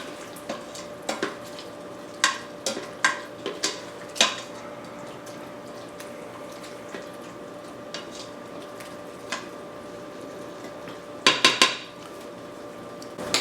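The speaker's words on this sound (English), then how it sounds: "So we're going to add that in. Stir it once again." Pork vindaloo with vinegar, wine and spices being stirred in a pot: repeated sharp clinks of a spoon against the metal rim over a low steady hum, a quick burst of clatter near the end.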